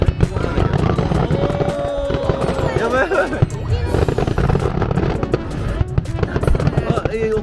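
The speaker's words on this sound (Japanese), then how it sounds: "綺麗な花火" Fireworks display at a summer fireworks festival bursts nearby with a rapid series of cracks and pops, loud and close, while excited voices talk and exclaim throughout.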